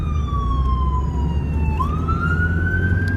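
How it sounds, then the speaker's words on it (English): A wailing emergency siren sweeps down and back up in pitch over a steady low rumble of traffic, loud and continuous. "Ambulance, I hear ambulance."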